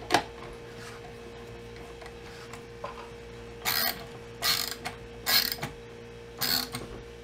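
Ratchet tightening the stock screws on a Magpul 700 Hunter rifle stock: several short bursts of rapid clicking separated by pauses and quiet handling noise, close up.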